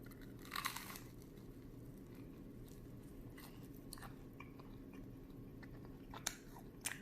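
Bread spread with butter and dairy-free cream cheese is chewed close up in quiet, soft crunchy bites with a few sharper bursts and faint crinkles, and nobody speaks.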